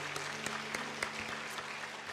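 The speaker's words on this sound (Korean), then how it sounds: "한 번 더 뜨거운 격려의 박수 보내주시기 바랍니다" Brief applause at a Sunday afternoon church service, moderately loud, with a few distinct claps over a steady layer of clapping and a low sustained tone beneath.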